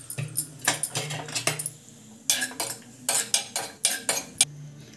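Cashews being dry-roasted in a pan for semiya payasam, with a spoon stirring and scraping in quick repeated clinks and metallic scrapes, close and fairly loud, no talk.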